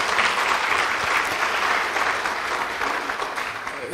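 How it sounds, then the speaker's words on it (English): A big round of steady applause from an audience at a university awards ceremony, many hands clapping evenly and loudly throughout without a break. "I think they deserve a big round of applause."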